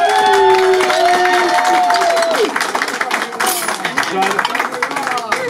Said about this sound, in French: on peut l'applaudir pour elle